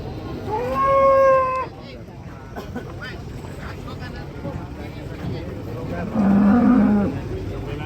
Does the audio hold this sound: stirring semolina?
no